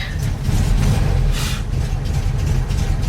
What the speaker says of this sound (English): It's idling pretty good considering it's cold.